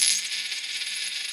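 A shiny state quarter dropped onto a hard surface, a brief bright metallic ring that settles into a faint shimmering spin, heard up close with no talking.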